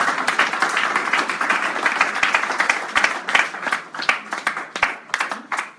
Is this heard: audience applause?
yes